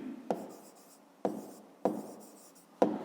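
Chalk or pen writing a math formula makes four sharp taps spaced about a second apart, each followed by a soft scratching stroke, close and quiet with no speech.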